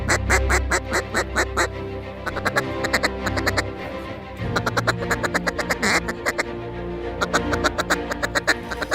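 Ducks quack repeatedly in rapid, rhythmic bursts during a field duck hunt, loud and close, sounding like a duck call, with a brief pause midway before the quacking resumes.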